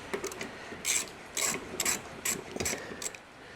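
A wrench loosens the blade bolt on a lawn mower whose blade is wedged with a board, giving several short ratcheting, clicking bursts with scraping metal in between, close by and fairly quiet, with no talking.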